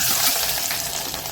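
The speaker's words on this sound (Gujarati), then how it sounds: "પછી હિંગ એડ કરીશું, કળી પત્તા એડ કરીશું અને પછી આપણે લસણ," Asafoetida, curry leaves and garlic sizzling in hot oil for a Gujarati moong masala, a dense continuous crackling hiss, loud and close, with no pauses.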